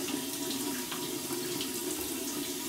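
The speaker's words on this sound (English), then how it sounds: "we're going to run under some cold water" Cold water runs steadily from a tap into a sink, a continuous even rush of splashing flow at close range with no talking.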